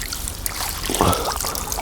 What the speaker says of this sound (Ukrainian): Погляньте, як в нього булькає.